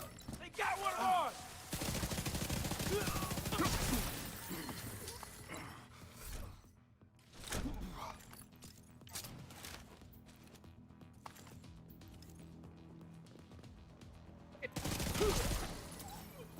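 Gunfire in the shooter The Division: loud rapid bursts of shots at the start and end, with sparser clanks and thuds between, and voices now and then in the mix.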